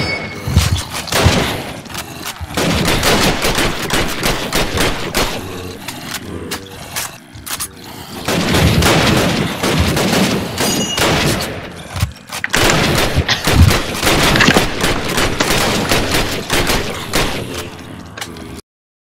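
Gunfire in the Minecraft video game, with dense bursts of rapid shots and booms in three long volleys separated by short pauses, loud and busy throughout.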